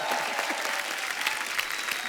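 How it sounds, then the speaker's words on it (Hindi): Enthusiastic audience applause at a comedy show, dense and continuous, with many hands clapping at once and crowd noise mixed in. "बहुत जोरदार ताली हो जाए"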